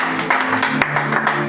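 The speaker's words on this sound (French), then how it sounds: "Nous applaudissons pour la parole." An audience applauding at an international church convention, with dense, steady clapping from a large crowd that carries on evenly throughout and includes a few sharper individual claps.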